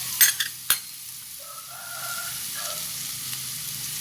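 Ingredients being stir-fried in a pan for vegetarian spring roll filling: a few sharp utensil clicks at the start, then a soft, steady sizzle close by with no talking.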